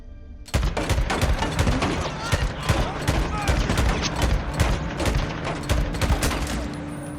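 Dense bursts of automatic gunfire and rapid shots crackle in the video game Days Gone, loud and almost continuous, with heavy firing starting suddenly after a brief quiet moment.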